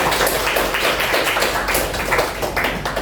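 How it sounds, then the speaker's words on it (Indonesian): An audience in a class or seminar claps hands together, a close, continuous patter of sharp taps lasting several seconds with no talk over it. "Tepuk tangan dulu dong."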